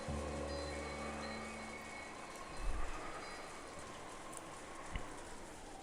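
Steady rain in the Umineko visual novel, a dense even hiss filling the background beneath a faint low hum, with a couple of soft thumps along the way and no voices.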